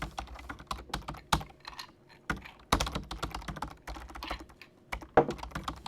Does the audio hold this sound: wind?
no